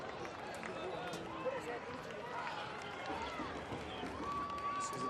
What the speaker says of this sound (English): You can hear the crowd wanting him to do a back heel there.